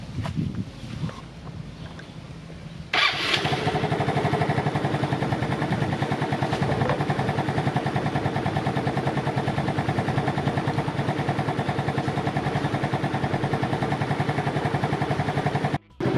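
Engine of a Yamaha Mio scooter, called a Jetski, after an idle adjustment. It starts abruptly about three seconds in, after a quiet low rumble, then holds a loud, steady, even idle until it cuts out right at the end.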